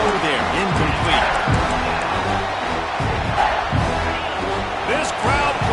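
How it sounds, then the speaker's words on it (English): Stadium crowd at a Clemson versus Purdue college football game, a loud dense roar of voices and cheering that stays constant throughout, with a commentator talking over it. "This crowd bringing the energy and noise early."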